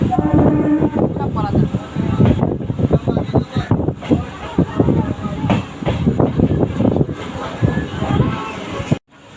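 A Howrah to Bolpur local train departs and rumbles and clatters along the rails up close, with wind buffeting and people talking over the noise.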